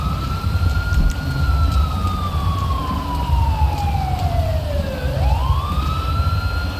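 Ambulance siren in the police game LSPDFR on a rainy night at a crime scene: a loud, continuous wailing tone that sweeps slowly downward, then rises sharply again, over low engine rumble, with no voices.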